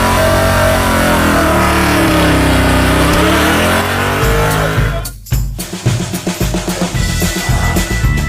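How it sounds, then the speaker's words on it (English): Mopar muscle truck doing a burnout, engine roaring loud and steady with a rising rev for about five seconds, then a sudden cut followed by choppy, rumbling revs and tire noise. "we're finally smoking tires in the Mopar muscle truck."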